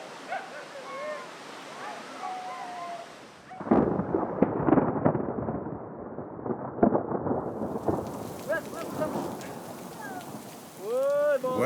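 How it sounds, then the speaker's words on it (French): A thunderstorm out on a nomad route in Iran brings loud, rumbling thunder with crackling bursts over rain noise, mixed with chirping birds and animal calls at the start and end. "Voilà l'orage."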